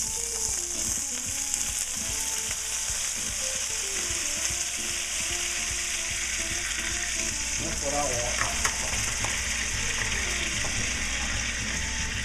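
Water poured into a hot pot of chicken drippings on the stove, giving a steady loud sizzle and bubbling hiss that runs throughout, with some stirring and a brief burst of spattering toward the end.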